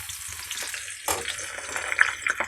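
Pakoda fritters frying in hot oil give a steady soft sizzle and crackle that swells after about a second, with faint stirring or water-like splashes and no talking.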